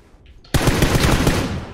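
A sustained burst of automatic gunfire in PUBG, loud and close, a fast continuous rattle starting abruptly after a brief quiet moment.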